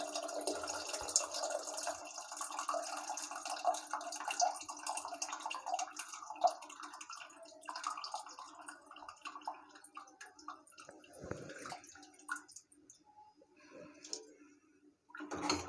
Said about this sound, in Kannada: ಆ ಹುಳಿನ ಇದಕ್ಕೆ ಹಾಕ್ಕೊಳ್ತಾ ಇದ್ದೀನಿ